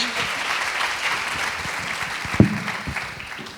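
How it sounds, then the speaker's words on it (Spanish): Applause from a symposium audience fills the room, a continuous wash of many hands clapping at moderate distance, with one louder close clap or knock standing out midway. "Un aplauso."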